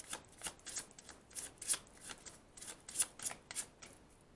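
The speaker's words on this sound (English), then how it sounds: "One more shuffle." An oracle card deck shuffled in quick riffling bursts, crisp and close, repeating every half second or so with brief pauses between.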